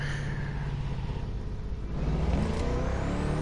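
Car engine in The Crew Motorfest racing game droning with a dark, steady tone and then revving up slightly, loud and continuous, with no voices.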